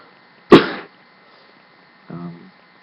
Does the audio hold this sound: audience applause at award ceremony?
no